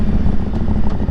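An Aprilia Tuareg motorcycle with a stage 3 tune and deleted exhaust valves runs close and loud, its engine giving a dense, rough, continuous rumble.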